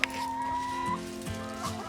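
Backyard hens cluck close by in short, repeated bursts, with layered throaty calls overlapping one another and no one talking.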